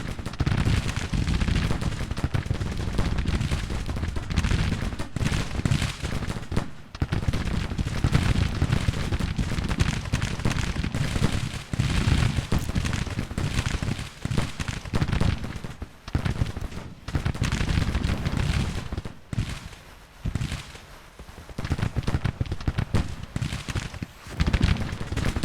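Rifle fire across a Civil War battlefield in Grand Tactician, dense overlapping volleys and scattered musket shots rolling continuously over a rumbling backdrop, loud and sustained with brief lulls.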